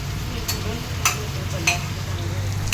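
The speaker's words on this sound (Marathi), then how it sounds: "फोडणीला बघा आपण खोबरेल तेल वापरले" Spice tempering in coconut oil sizzles with a steady hiss, a few sharp pops and crackles breaking through at intervals.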